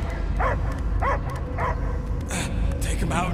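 A dog barks and yips several times in the Guardians of the Galaxy video game, short spaced calls close by over a low background hum, with no talk.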